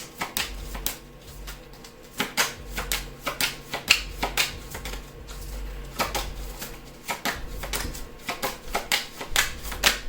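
Tarot cards are shuffled by hand for a reading, giving a rapid run of crisp riffling clicks and snaps in irregular bursts that pause and restart over about ten seconds, with no talking.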